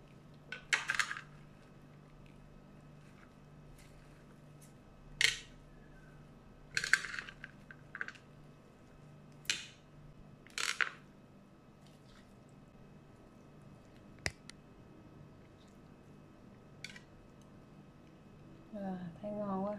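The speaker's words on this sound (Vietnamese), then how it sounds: "Bây giờ mình sẽ trộn lên." Stir-fried pork with rice noodles being tossed in a bowl makes sparse, brief clinks and soft wet squishes spaced several seconds apart, close and quiet over a faint hum.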